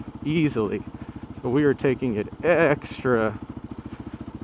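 A Kawasaki KLR 650 motorcycle idles along in first gear through mud with a low, steady, rapid thumping beat, close and moderately loud, beneath someone talking through most of it.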